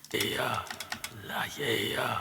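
Computer keyboard keys tapped as shortcuts in an Ableton music-production session, a few quick clicks close by under steady background music.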